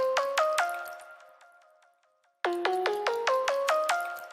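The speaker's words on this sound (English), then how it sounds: "So I added the Illusions plug from the Alex Serum Bank." Illusions pluggnb synth preset from the Alex Serum Bank playing a bright, bell-like plucked melody, loud and up close, with quick repeated notes that decay, a short fade, then a fuller run of notes resuming.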